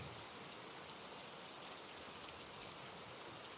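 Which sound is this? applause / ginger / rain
rain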